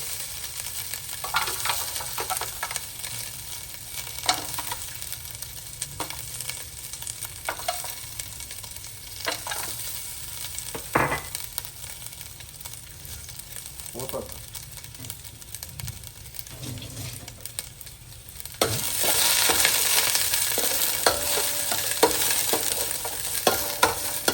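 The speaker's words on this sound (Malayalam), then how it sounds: "ആദ്യം നമ്മൾ ചട്ടി വെച്ച് എണ്ണ ഒഴിച്ചു. ഇനിയിപ്പോൾ നമ്മൾ കുറച്ച് തേങ്ങാക്കൊത്ത് ഇടുകയാണ്. തേങ്ങാക്കൊത്ത് ഒന്ന് വറുത്തെടുക്കാമെന്ന് വിചാരിച്ചു." Coconut pieces fry in oil in a pan with a steady close sizzle, while a utensil stirs them in scattered clicks and scrapes; the frying swells louder near the end.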